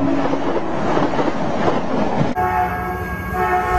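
A loud train roars by close up, and partway through a long, steady horn sounds over the rumble.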